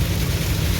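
A heavy Saudi Arabian downpour makes a dense, even wash of rain noise with a low rumble beneath, uniform and continuous.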